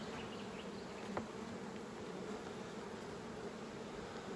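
Honeybees drone around an opened hive during spring nucleus work outdoors, a dense, continuous buzz from many insects, steady and fairly faint, with no voices.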